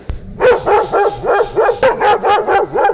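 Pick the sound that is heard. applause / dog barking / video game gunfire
dog barking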